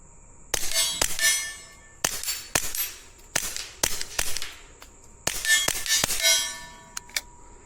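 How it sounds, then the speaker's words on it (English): A suppressed S&W Victory pistol with a Tandemkross Comet barrel firing standard velocity ammo outdoors toward woods: about a dozen sharp, metallic cracks in an irregular string, fairly quiet with short ringing tails. "pretty much anything you put through this little gun is going to be pretty quiet"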